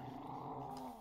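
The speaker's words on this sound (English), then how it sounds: "Why does she sound like a rabid dog?" A Roblox game character growls like a rabid dog, a low continuous rumbling snarl for about a second, close and moderately loud.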